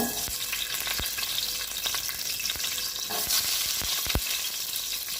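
Garlic sautés in hot oil for machboos laham, a bright steady sizzle punctuated by sharp spatula taps and stirring clacks against the pan, close and without speech.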